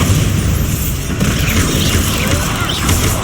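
A Bombarda spell explosion in Hogwarts Legacy, a loud continuous booming rumble with dense crackling debris throughout, heavy and close with no pause.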